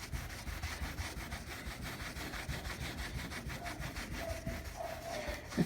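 A terry cloth towel rubbed back and forth over peeling clear coat makes a steady, close, rhythmic scrubbing rasp with even strokes and no voices.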